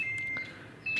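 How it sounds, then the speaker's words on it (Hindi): A fully automatic washing machine sounds its end-of-cycle signal: two clear electronic beeps, one held for about half a second and another starting near the end, close and alone. "ये इसकी बीप है।"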